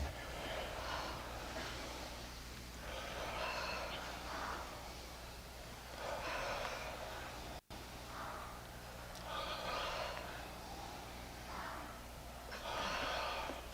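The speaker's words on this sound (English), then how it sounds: "Double breathing, palms touching." Rhythmic bursts of forceful breathing repeat steadily at close range during a double-breathing energization exercise performed with palms touching, each breath a short airy rush with quiet gaps between.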